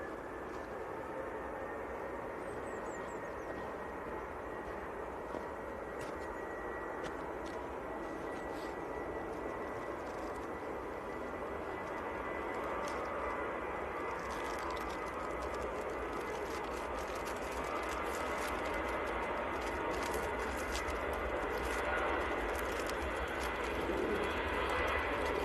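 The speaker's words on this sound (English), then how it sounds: "giving his engines a little bit of a rev up there before he released the brakes" Aircraft engines at Manchester Airport in freezing winter weather run up with a steady, continuous roar before brake release, broad and sustained throughout, building slightly louder toward the end with no talking.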